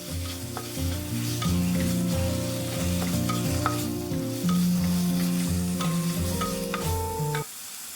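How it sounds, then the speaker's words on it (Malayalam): Bitter gourd curry being stirred together with roasted coconut paste in a pan, with soft spoon scrapes and knocks scattered through a steady tune playing underneath. "അതിന് നല്ലപോലെ ഈ പാവയ്ക്കയിലയിൽ നിന്ന് മിക്സ് ചെയ്തെടുക്കാം."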